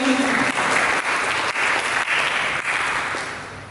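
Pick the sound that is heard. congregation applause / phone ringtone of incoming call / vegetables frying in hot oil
congregation applause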